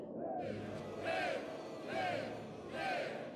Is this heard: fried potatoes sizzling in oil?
no